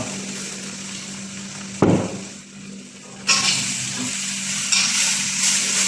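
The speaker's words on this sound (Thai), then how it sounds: "ผัดให้หมูสุกไปเลยนะครับ ให้หมูมันสุกก่อน" Pork stir-frying in a hot pan, a steady sizzle with a sharp clank of the utensil near two seconds and brighter frying bursts later, close and alone without talk.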